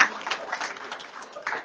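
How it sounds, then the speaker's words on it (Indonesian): Faint audience applause at a university notary alumni gathering in Semarang: a soft, steady patter of many hands clapping in a large room, with some voices under it. "Ibu Sylvie, tepuk tangan semua untuk IKANOT."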